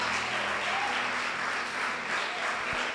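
A church congregation applauds during a sermon, with continuous, full clapping from many hands and a faint background tone sustained underneath.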